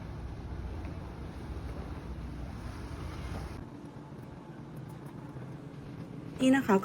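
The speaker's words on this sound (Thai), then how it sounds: "เป็นเรือเฟอร์รี่ค่ะที่จะมาเทียบท่า" A ferry boat arrives at a dock on Lake Como, Italy, with a low engine and water rumble that eases partway through, wind noise over it, and a few sharp knocks at the end.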